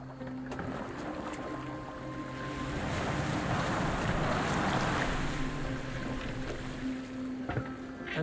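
Boat gliding over open sea in Assassin's Creed Valhalla, with a steady wash of water and wind that swells louder through the middle, with faint low tones beneath and no talking.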